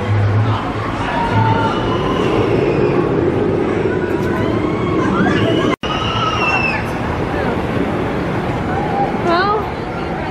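The Sky Rocket roller coaster train at Kennywood rumbles and rattles along its rails with squealing metal, heard off-ride, while a crowd chatters and voices carry over the noise.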